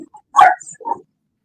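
A single dog bark at a boxing broadcast, a sharp close yelp followed by a shorter second bark, heard alone with no talk over it.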